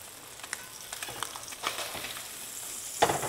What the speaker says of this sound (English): I love that sound of the sizzle.